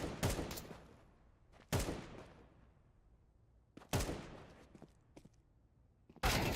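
Gunfire rings out in an esports shooter match during a grand final, with several sharp loud bursts of shots separated by quieter gaps, each burst decaying with a short tail.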